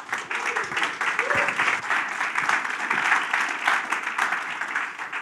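Sustained audience applause fills a conference hall during a fireside chat, dense steady clapping from many hands throughout with some crowd murmur underneath.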